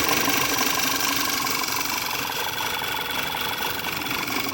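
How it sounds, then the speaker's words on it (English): A Volkswagen Tiguan 2.0 TSI engine idles loudly and unevenly with misfires, a constant rumble with a rough, shaky quality and no one speaking. "Now the engine is shaking really bad right there."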